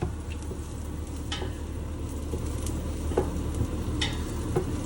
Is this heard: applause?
no